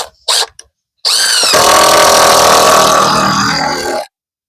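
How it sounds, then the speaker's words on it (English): A power drill drives screws into the wooden wall framing of an 8x8 off-grid tiny house. Two short bursts come first, then a loud, close run of about three seconds that stops abruptly, with no speech. "So I'm just putting this together with screws"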